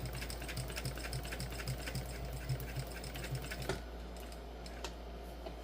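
A sewing machine stitching a crossbody bag, a rapid, even mechanical clatter of the needle running near and steady, then stopping abruptly partway through, leaving quieter handling sounds.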